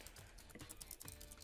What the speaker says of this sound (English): hear that typing?